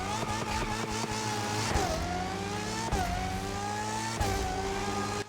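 Car engine running loud and close through a swapped-in exhaust, revving in repeated pulls with the pitch climbing and dropping several times under a continuous rumble, no voices.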